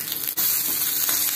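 Curry leaves fry in a spoonful of hot oil while cooking cucumber kuzhambu, giving a steady close-up crackling sizzle with one brief dip partway through.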